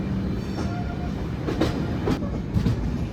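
The Kozhikode Jan Shatabdi Express, running with LHB coaches in India, rumbles steadily with low wheel-on-rail noise and faint rhythmic clatter, heard close from on board or trackside.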